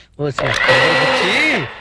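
A kitchen mixer grinder whirs loudly and steadily for nearly two seconds, and a voice talks over the motor noise.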